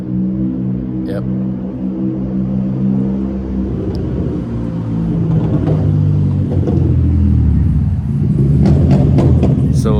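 A noisy Porsche Boxster passes by with a loud, steady engine rumble that swells and revs as it goes by at night in a small town, and a person speaks briefly over it.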